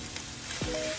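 Chopped onions sauté in a pan for New Orleans dirty rice, a short burst of even, close sizzling with a faint tonal sweep, and no talking.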